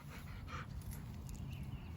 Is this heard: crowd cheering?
no